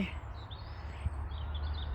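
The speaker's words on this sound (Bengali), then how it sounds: "পাখি কিচিরমিচির ডাকতেছে" Faint, high bird chirps scattered over a low outdoor rumble in a park in the morning, distant and soft, with no clear talking.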